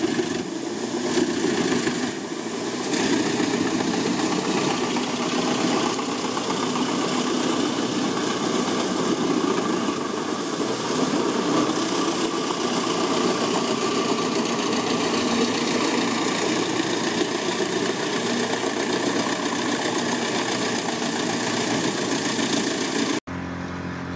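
Wood crusher machine with rotating steel blades running, a continuous loud mechanical drone and grinding rattle holding steady throughout, with no talking.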